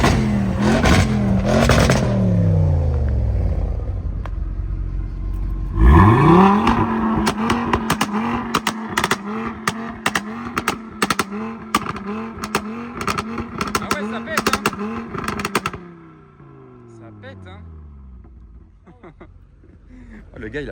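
An Audi S8 with an Algerian plate revs hard in repeated sharp bursts, rising and falling quickly, first a couple of pulls, then a long rapid series of blips, loud and close, before settling to a quieter idle; people talk nearby.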